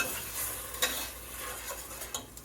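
Onions being stirred in a hot pan for a chicken stir fry, with a steady low sizzle and scraping strokes at an even pace, close by and alone.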